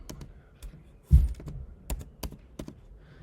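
Several sharp, separate keystrokes on a computer keyboard, one heavier thunk among them, close and fairly quiet, as a hex color code is typed into a color field.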